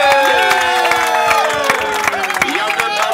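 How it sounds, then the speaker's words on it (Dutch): A crowd at a bus ride performance breaks into loud cheering and clapping, with shouts rising over dense, continuous applause. "daarom wil ik een heel groot applaus voor onze"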